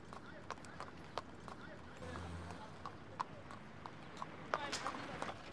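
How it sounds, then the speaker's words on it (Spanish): Hooves of a horse pulling a cart clip-clop in a steady, faint rhythm, with a voice speaking over them. "Viajó con un carro tirado por un caballo"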